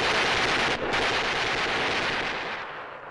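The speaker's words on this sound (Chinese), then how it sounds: "对准敌船射击" Ship guns fire in a 1964 Chinese naval war film, a loud, continuous roar of gunfire and blasts that stays dense throughout, with a brief dip before the barrage resumes and slowly fades.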